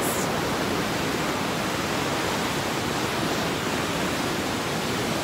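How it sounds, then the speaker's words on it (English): Fast-moving James River water rushes past a pipeline walkway in Richmond, Virginia, a loud, steady, close roar of churning water filling every moment without pause or voices. "the water is just moving so fast."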